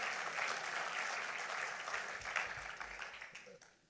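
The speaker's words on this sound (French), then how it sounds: "je propose qu'on les applaudisse quand même pour leur présence" Applause from the audience at a UDI political party congress in a hall, a steady wash of clapping from many hands that holds even and then gradually fades out toward the end.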